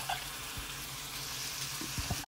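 Chopped onion frying in hot oil with crushed cumin for a coconut milk fish curry, a dense, steady, close sizzle with a few faint knocks near the end before it cuts off.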